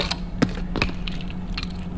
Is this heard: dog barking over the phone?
no